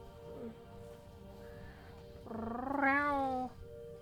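Fifi, a pet cat, lets out one drawn-out, rising and falling meow near the end, close and fairly clear over a quiet room, with a soft chirp earlier.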